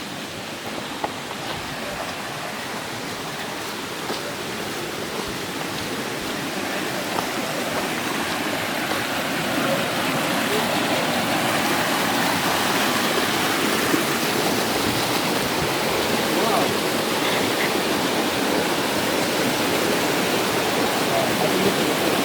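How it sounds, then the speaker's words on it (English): Stream water rushing around rocks at a Finnish nature center, a steady, full-bodied broadband flow that swells slightly louder over time, continuous and close with no voices. "Really cool when the water goes like around that and then continues."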